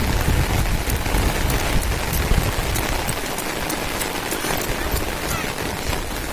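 Heavy rain pounds down at night, a loud continuous roar with sharp drops pattering on an umbrella or nearby surface, steady throughout.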